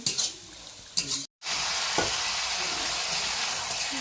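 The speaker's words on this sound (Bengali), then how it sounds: "এই পাশে চিকেন কষার জন্য মশলা করছি।" Spiced masala for chicken kosha fries in a pan with a loud, steady sizzle, broken by scraping stirring strokes and one brief dropout.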